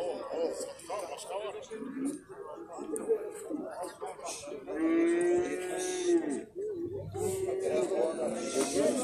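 Cattle moo loudly amid a busy crowd at the Gulcha livestock market in Alay District, Kyrgyzstan, with people talking throughout and a long, drawn-out low bellow in the middle.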